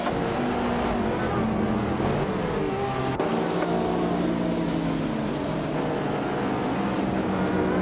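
Several race cars in a racing video game, including a classic 1987 Porsche 959, roar together at the start of a race at Dover International Speedway, a dense, steady engine drone with shifting revs and a brief dip midway.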